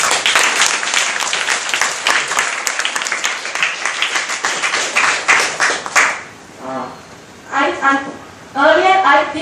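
Sharp clapping from an audience at a lecture bursts out and rattles on for several seconds, then stops abruptly and gives way to someone speaking.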